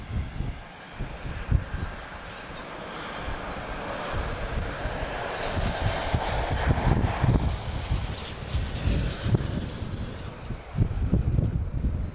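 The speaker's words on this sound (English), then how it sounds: "So that wind's picking up again now." Steady wind roaring and buffeting outdoors at Lisbon Airport, swelling stronger midway with gusty rumble against the microphone, faint distant aircraft engine noise mixed in.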